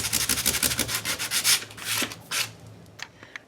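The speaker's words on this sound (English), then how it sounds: "I'm going to bring in my handy dandy sandpaper and go in here and sand" Sandpaper rubs back and forth across a dried textured surface in quick, close, rhythmic strokes, then slows to a few longer passes and fades into faint scratches.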